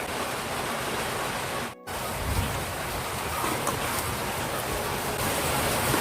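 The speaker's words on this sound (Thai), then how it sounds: "ฝนตกแรงเลยค่ะพี่น้อง" Heavy rain pours down outdoors in a dense, constant hiss that fills the scene, briefly cutting out for a moment before resuming just as loud.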